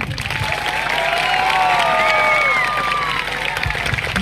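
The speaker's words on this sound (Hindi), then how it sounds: "एक बार जोरदार ताली" Loud, sustained applause from a village gathering crowd, steady clapping with scattered cheers and shouts running throughout.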